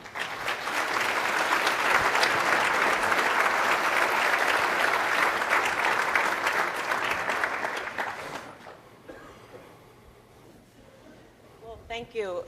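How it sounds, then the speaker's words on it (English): Audience at a keynote and panel event bursting into sustained loud applause for about eight seconds, then fading to a quiet room before a voice begins speaking near the end. "So Honora, a big round of applause for you."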